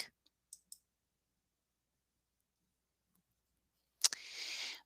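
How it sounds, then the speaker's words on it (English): A computer mouse gives a few sharp, isolated clicks on an admin panel link in a WordPress setup, close and quiet against silence, followed by a brief burst of noise near the end. "we want to click on the admin panel link"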